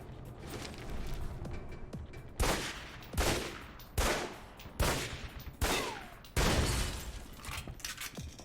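Pistol gunfire in the video game Alpha Protocol: about six loud, sharp shots at irregular intervals, each with a short decaying tail, over a steady low background hum.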